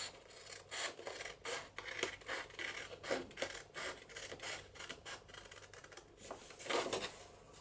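Scissors snip through a piece of patterned 12-inch craft paper, cutting out a 5-by-3-inch section in a steady run of short rasping cuts, close and fairly quiet, with no talking.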